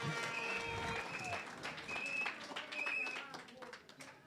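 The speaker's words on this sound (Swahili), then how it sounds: "Can you clap for them?" An audience at a luncheon claps for the management team, a steady wash of applause that runs throughout with voices audible over it.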